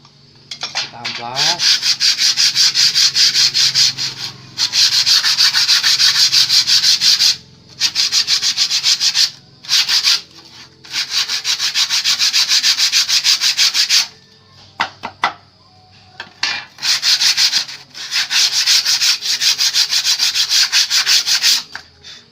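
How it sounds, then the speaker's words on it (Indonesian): Sandpaper rubs briskly back and forth along a hand-filed saw blade, producing loud, close, rhythmic scratchy strokes in long bursts separated by brief pauses, with no talking. "Setelah kita kikir baru kita amplas ya, kita amplas."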